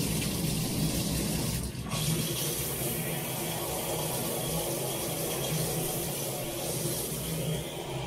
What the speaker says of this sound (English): So let's get in the shower.